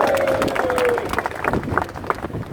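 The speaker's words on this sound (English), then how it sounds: "let's have a big round of applause for Rick Ellis" Crowd applause for Rick Ellis at an outdoor rally in Telford, scattered clapping and crowd noise that starts dense and thins into irregular individual claps, with a faint tone and murmuring voices.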